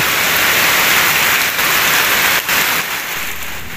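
Heavy typhoon rain pours down in a dense, steady roar of hissing drops, loud and close, with no voices.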